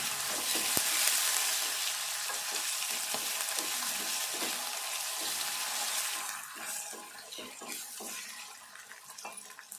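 Onions, masala and ginger garlic paste sizzle and fry in a pan for an egg and chana dal curry, a dense continuous hiss with stirring clatter, loud and close, easing slightly near the end.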